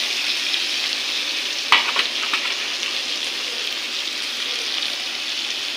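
Tomato, onion and spices with turmeric frying in a pan, a bright continuous sizzle with a sharp knock of a spoon early on followed by a few stirring scrapes.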